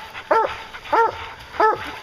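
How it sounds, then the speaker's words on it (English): Hounds on a bear hunt bay loudly and close by, three separate drawn-out barks spaced evenly across two seconds, each with a tonal, howling quality. "Get him, you dogs."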